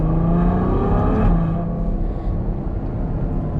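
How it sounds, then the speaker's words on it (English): Ferrari F140 V12 engine revving loudly and steadily, pitch rising and falling as aggressive gear changes punch through, with a sharp shift near the middle before the roar settles back down. "I love how aggressive the gear changes are at any speed."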